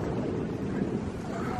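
Steady wind gusting at night beside a dock near the water in Florida, a continuous low rushing roar with buffeting on the microphone and no clear breaks.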